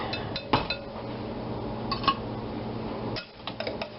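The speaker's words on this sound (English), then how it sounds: "we'll whisk this up nice and good" A metal whisk beats ingredients for Hawaiian meatballs in a bowl, making a busy scraping and clinking rattle close by, with sharper metallic knocks now and then.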